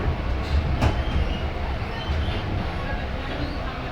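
Interior rumble of an Azimganj–Rampurhat MEMU passenger train running at dusk, a steady broadband roar with a brief rattling click near the start, continuous and fairly loud throughout.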